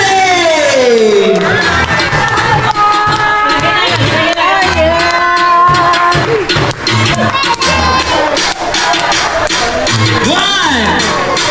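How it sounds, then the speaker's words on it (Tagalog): A crowd at a birthday celebration cheers loudly, with children shouting, whoops and excited voices over about eleven seconds, clapping mixed into the steady din. "A round of applause to our celebrator, Iron Zone with Mommy and"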